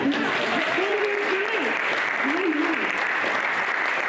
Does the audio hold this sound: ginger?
no